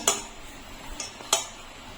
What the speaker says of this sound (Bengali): এখন ভালো করে সব মিশিয়ে নেবো